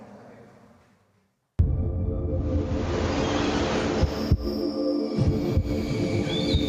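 A deep, steady heartbeat-like throb and hum fill a Mexican tourism campaign soundtrack, starting abruptly after near silence and continuing loud and sustained with a faint whooshing layer.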